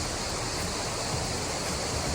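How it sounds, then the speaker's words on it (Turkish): A small stream of spring water pours in steps over rocks beside a creek, a steady, close rushing hiss that fills the short moment without any other sound. "Derenin üzerinde merdiven şeklinde bir pınar akıyor burada."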